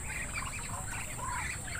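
Pet ducks quack and chatter in a busy, continuous flock nearby, with a steady background hiss and some faint voices mixed in.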